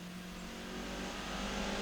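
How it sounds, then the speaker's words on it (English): Peugeot rally cars racing on a stage, heard as a steady, fairly distant engine drone that swells slightly as the cars approach, with no talk over it. "And we have the two Peugeots, the Ryanair car of Barry Barrable, which we are now on board"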